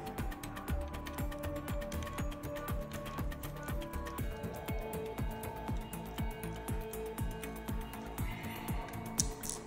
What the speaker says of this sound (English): And we've unscrewed them.